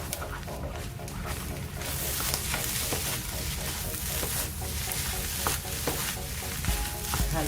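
Corned beef fried rice sizzles steadily in a hot pan as it is stir-fried, with frequent scraping and clattering strokes of the spatula throughout and some speech in the background.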